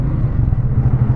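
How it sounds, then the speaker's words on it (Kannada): The exhaust of a 400cc motorcycle on a ride, a steady deep burbling rumble that stays close and loud for about a second with no talking. "ಎಕ್ಸಾಸ್ಟ್ನ ಸೌಂಡು ಈ ಥರ ಕೇಳಿಸುತ್ತೆ"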